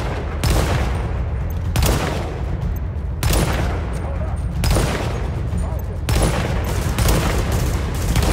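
Heavy automatic gunfire in the shooter game Tom Clancy's The Division, with a loud machine gun firing in long sustained bursts and brief pauses between them, close and dense throughout.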